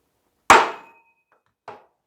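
A hammer strikes a steel punch on metal while a custom cross slide for an Atlas lathe is being made. There are two sharp, close metallic clangs: a loud ringing hit, then a softer, shorter one after a pause.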